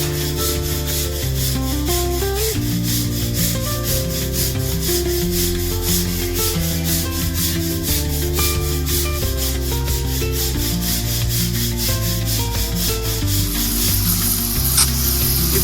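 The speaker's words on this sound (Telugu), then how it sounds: "ఇప్పుడైతే గ్రైండింగ్ మిషన్తో మంచిగా కొట్టేసేయాలి." Grinding machine sanding down a cleaned surface, a loud continuous abrasive rasping and whir that holds steady for the whole stretch with no speech over it.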